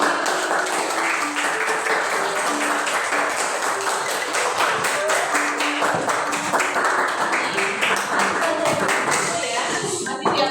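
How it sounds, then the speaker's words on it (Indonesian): Children in a class 5 lesson clap steadily for the shark group, with a dense, sustained patter of many hands and some voices mixed in throughout. "tepuk tangan dulu untuk kelompok hiu"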